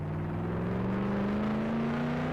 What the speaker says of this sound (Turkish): Bu arabanın sesi çok yüksek.